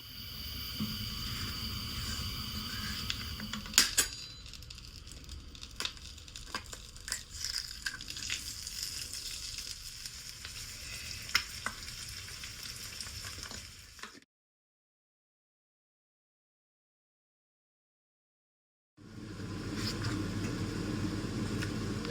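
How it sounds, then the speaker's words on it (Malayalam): An egg frying in a pan beside noodles being cooked, a close crackling sizzle with scattered pops and scraping, cut off by a few seconds of silence before the sizzle returns. "ഒരു എഗ് ഫ്രൈ ഉണ്ടാക്കാം"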